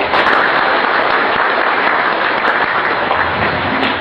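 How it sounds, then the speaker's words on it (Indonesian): Audience applause at a formal ceremony honouring a Naqsyabandiyah tarekat guru: steady, dense clapping from a large crowd, loud and continuous throughout, with no talk over it. "Kami beri aplaus beliau."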